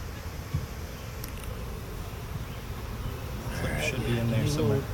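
Honeybees drone around a hive in a low, continuous buzz, fairly faint, with a few closer passes near the end while people talk quietly nearby.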